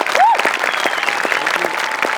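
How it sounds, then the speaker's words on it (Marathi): A studio audience at a Marathi comedy show breaks into steady, dense applause that carries on throughout, with a brief whistle-like tone near the start. "एकदा जोरदार टाळ्या."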